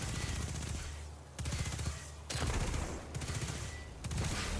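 Rapid automatic fire empties a full magazine in Destiny 2, coming in four sustained bursts separated by brief pauses, each a dense, steady rattle at moderate volume with no talking.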